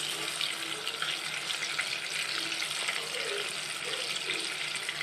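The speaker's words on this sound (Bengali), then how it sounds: "মাছগুলো ভাজা আমার প্রায় হয়ে এসেছে।" Prawns frying in oil make a soft, steady sizzle and hiss at moderate distance, with faint bubbling and no talking.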